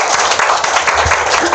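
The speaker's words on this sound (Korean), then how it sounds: "박수 한번 좀 부탁드리겠습니다" An audience at a Korean reading talk show applauding, a brief dense burst of many hands clapping close and loud for under two seconds.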